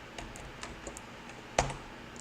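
Quiet keystrokes on a computer keyboard while entering text into a Python Tkinter entry field, a few soft scattered clicks with one sharper press near the end.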